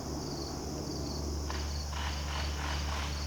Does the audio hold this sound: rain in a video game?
no